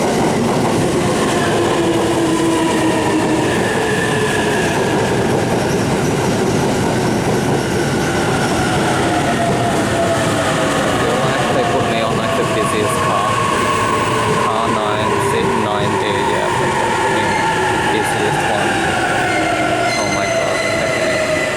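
Ride inside a Japanese train on the line toward Mito near Hitachi Seaside Park, with a steady rolling rumble, drawn-out wheel squeals rising and falling, and faint voices in the background.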